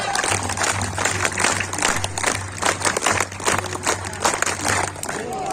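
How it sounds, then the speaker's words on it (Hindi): Steady rhythmic clapping by a group, repeating short patterned bursts of a signature clap over a low hum, with crowd noise throughout. "सिग्नेचर ताली शुरू कर"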